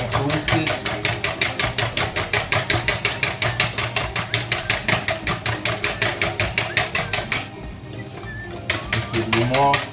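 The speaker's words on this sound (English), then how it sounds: "I'm gonna whisk this one very well." A whisk beats ingredients in a bowl for a Portuguese bacalhau dish, making fast, steady clicking strokes that pause briefly near the end and then resume, close and clear.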